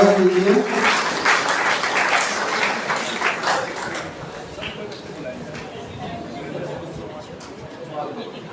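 Crowd at a student event clapping to welcome a student onto the stage, loud and dense at first, then tapering off as someone speaks over it.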